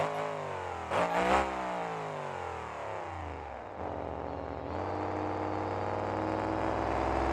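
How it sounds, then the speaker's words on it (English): A monster truck engine in the video game BeamNG revs and rumbles, its pitch surging and dropping, loud and close with a steady roar underneath. "You can hear that truck rumble by."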